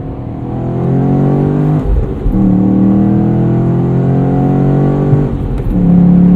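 A 2017 Chevrolet SS sedan with a manual gearbox accelerating in fourth gear near 3,000 RPM, its engine a loud, steady drone that rises in pitch. There is a brief dip and a shift in tone partway through, heard from inside the cabin.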